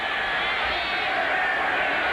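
Stadium crowd at a 1985 NFL football game, a steady broad roar of many voices that is loud and constant throughout, with a commentator's voice faintly over it.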